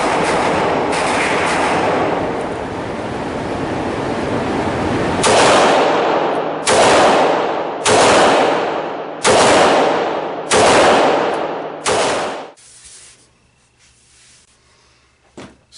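A Glock 19 Gen 4 pistol fired at a range: a run of loud, close shots spaced about a second apart, each a sharp broadband blast with a decaying tail, then quiet.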